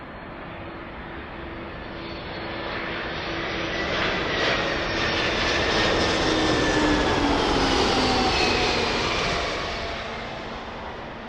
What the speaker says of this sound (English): this is going to be the last aircraft arrival for 27 left for us today